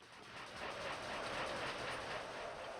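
Train riding in the Wynncraft video game gives a steady rumbling rail roar with faint clickety-clack, continuous and fairly quiet throughout.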